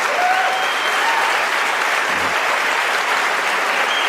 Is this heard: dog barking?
no